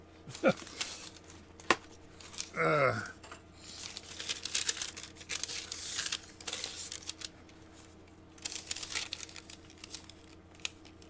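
Scissors cutting through parchment paper to make a double piece for a wet palette, with faint crinkling and snipping scattered across the clip and a brief louder rustle near the start, all quiet and close.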